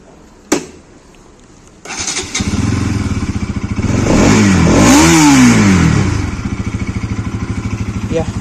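A Bajaj NS200 motorcycle cranks and fires up, settles into a loud close idle, then revs hard with a rising and falling engine note before dropping back to a pulsing idle.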